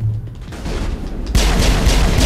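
Video game gunfire in a gunfight, bursts of loud booming shots and rapid fire that build in intensity, dense and close, with no talking.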